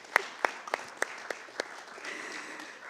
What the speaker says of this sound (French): remercier mon mari avec vraiment des bons applaudissements